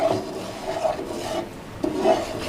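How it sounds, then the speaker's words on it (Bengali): A utensil stirring a flour and butter roux in a pan for white sauce pasta makes soft, repeated scraping and rubbing strokes in a slow, steady rhythm, close by with no voices. "অনবরত কিন্তু নাড়তে থাকতে হবে নাহলে কিন্তু নিচে লেগে যেতে পারে"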